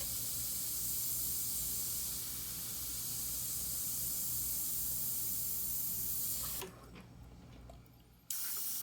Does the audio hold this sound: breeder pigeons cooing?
no